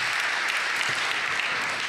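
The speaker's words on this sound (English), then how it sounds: "that deserves applause for sure" Dense, steady audience applause filling a college convocation hall, continuous and even for the whole stretch with no voices.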